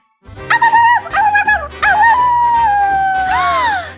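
Several dogs howl and bark together in long wavering wails, with short yelps mixed in, close and loud.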